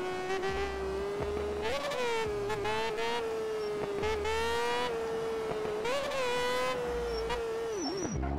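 A motorcycle engine revs hard and repeatedly with the clutch, pitch climbing and dropping between short clutch pulls, loud and close, with no talking.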